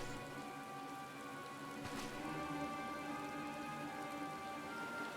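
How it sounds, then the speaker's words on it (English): Quiet, constant patter of rain in the video game Final Fantasy XIV, an even wash of drops on surfaces layered over soft sustained background music, with one brief sharper splash partway through. "Oh, suddenly it's raining."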